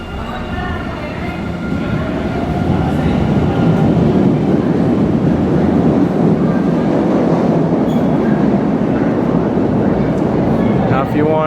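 Boston subway train on the Orange Line transfer platform, a loud rumbling roar of the cars moving past with rising wheel noise and faint squeal and clatter, continuous and close.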